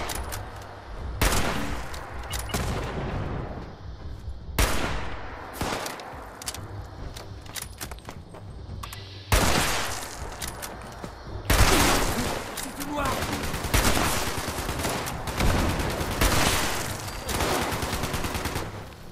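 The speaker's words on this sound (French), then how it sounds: "Il y en a un qui tire." Enemy gunfire in the Fallout 76 video game: repeated loud bursts of shots and rapid volleys in several clusters, with quieter gaps between them.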